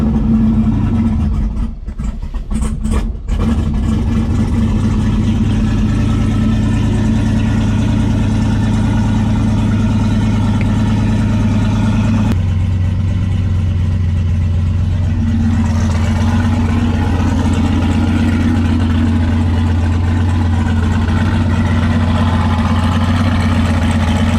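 Turbocharged LS V8 in a Dodge Dart idling loudly and steadily up close, a deep continuous drone with a brief stutter early on and a shift in tone midway as it is put into gear.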